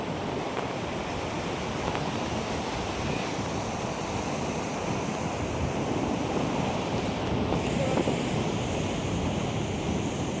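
Sea surf rolls in continuously at a beach, a steady broadband wash of breaking waves with some wind buffeting the microphone, loud and close with no voices.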